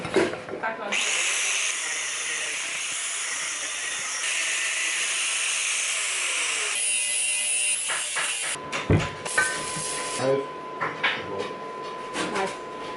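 Stick welding with 60-13 rods in a workshop in the west of Ireland, a harsh steady crackle and hiss that runs for several seconds and then cuts to scattered clanks, taps and a faint voice.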